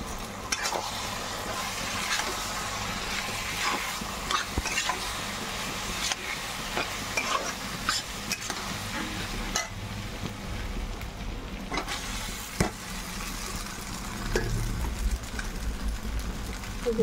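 Pasta is stirred and fried in a pan, giving a steady close sizzle under frequent scraping and clinking from the stirring, continuing without pause.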